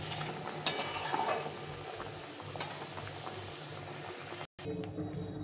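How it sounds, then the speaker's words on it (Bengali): Hilsa fish in a thin black-mustard curry bubbling on low heat in a pan, a soft continuous simmer with a couple of brief clinks, close and quiet, cut off for a moment near the end. "এখন একটু লো হিটে মাছটাকে ফুটিয়ে নিতে হবে।"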